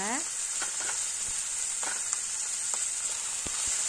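Chilli momos stir-fried with spices in a pan give a steady, close frying sizzle, with scattered clinks and scrapes of a stirring utensil throughout.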